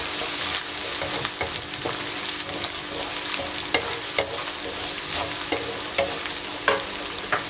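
Chickpeas frying in a hot pan give off a continuous dense sizzle, broken by frequent sharp spatters and utensil scrapes from stirring throughout, close and fairly loud with no talking.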